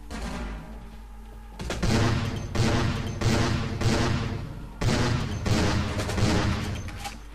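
Rapid bursts of super gun fire from Vampire: The Masquerade Bloodlines, a loud dense volley after a quieter start, then several heavy repeated blasts in uneven clusters with no talking.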